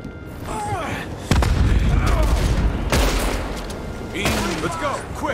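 Cannon blasts during a prison break in the video game Red Dead Redemption 2: three loud booming explosions spaced a second or two apart, each with a rumbling tail, over battle noise and game voices.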